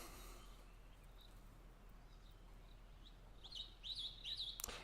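Birds chirp and call in a wooded setting, a few short tweets faint early on, then a livelier run of calls near the end over steady low background hiss.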